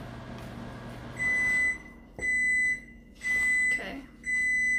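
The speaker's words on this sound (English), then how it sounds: "Microwave sounds like a Boeing plane." A microwave oven hums low for a moment, then falls quiet and sounds four evenly spaced beeps, each about half a second long.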